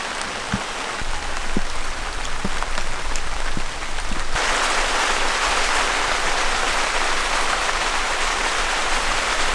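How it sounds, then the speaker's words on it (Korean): Rain falls at a forest campsite as a steady hiss with scattered sharper drops tapping nearby surfaces, then turns noticeably heavier and denser partway through and keeps pouring evenly. "비가 오네요, 결국."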